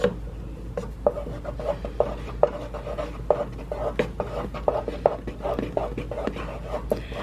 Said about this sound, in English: add in just a couple of drops of the green food coloring and mix it up really well